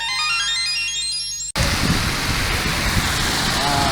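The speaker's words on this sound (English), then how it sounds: "Japanese monsoon or rain time." Heavy monsoon rain falling in Japan, a dense, steady roar of downpour that cuts in abruptly after a brief rising electronic tone, loud and continuous throughout.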